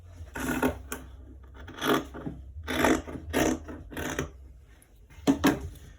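Scissors cutting trouser pocket fabric along a slanted line: several separate rasping snips of blades through cloth, close and moderately loud, with short gaps between cuts.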